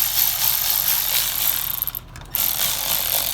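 A power tool spins a bolt on a 6.0 Powerstroke fuel injector, giving a continuous close whirring, ratcheting rattle with a short break in the middle before it resumes.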